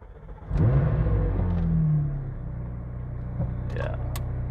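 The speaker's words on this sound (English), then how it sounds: "But then you hear this engine." A McLaren 675LT supercar engine starts with a sudden loud rumbling bark that eases into a steady, throaty idle, with a few brief clicks and higher whirs near the end.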